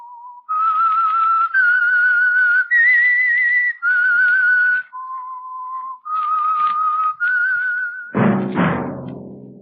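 Someone whistles a bright, wavering tune, phrase after phrase with short pauses, clear and close, ending on a sudden loud burst of orchestral music, the opening of an old radio drama.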